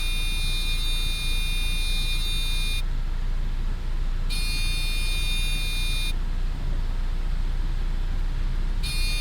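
Cockpit alarms in the Black Square Commander 114 in Microsoft Flight Simulator, a loud, shrill electronic tone switching on and off in long bursts of about two seconds over a constant low engine drone.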